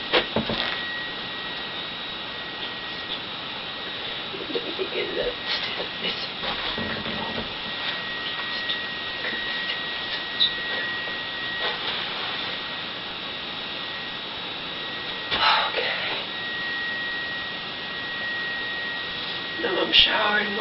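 A hair dryer runs in a home while a mother dries her hair, a steady whooshing blow that continues throughout with a few faint clicks and bumps.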